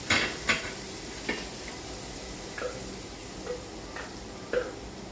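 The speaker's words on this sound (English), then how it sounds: "Now we're going to saute our shrimp in the chipotle sauce." Shrimp sauté in chipotle sauce with a soft, low, continuous sizzle, broken by a few light clinks of a utensil against the pan, fairly quiet and with no talk.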